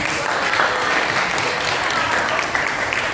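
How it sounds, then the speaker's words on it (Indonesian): A classroom of students applauds a classmate named Raffi during a lesson, a steady, dense burst of clapping lasting a few seconds at an even level with no talking. "tepuk tangan buat Raffi"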